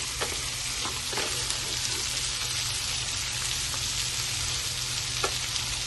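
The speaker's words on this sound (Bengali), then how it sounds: "এখন আমি গ্যাসের ফ্লেমটা হাই করে দিয়েছি, হাই করে দিয়ে ভেজে নেব।" Vegetables for veg fried rice fry on a high gas flame, giving a steady, dense sizzle with faint occasional clinks, constant and close without any speech.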